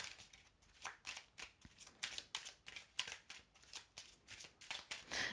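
Tarot cards being shuffled and drawn by hand, a quiet, regular run of soft riffling flutters and slaps, each lasting under a second, close and alone.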